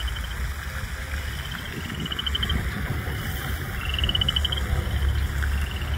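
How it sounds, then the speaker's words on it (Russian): Frogs near a pond croak in short repeated trills at a moderate distance over a low, steady background hum. "Лягушки, наверное."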